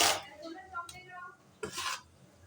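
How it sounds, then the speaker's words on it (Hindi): A wooden spoon scraping and stirring sticky dried mango paste in a pot, with two distinct scraping strokes separated by quieter rubbing and faint background sound. "ये लकड़ी का चम्मच लेकर ना आपने इस तरह से इसको मिक्स करना है"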